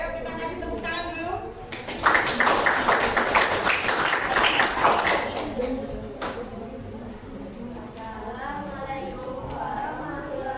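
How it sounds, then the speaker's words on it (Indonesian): A classroom audience claps for a presenting group in a dense, lively burst of about four seconds, then the clapping fades as a voice begins speaking. "Ayo kita kasih tepuk tangan dulu."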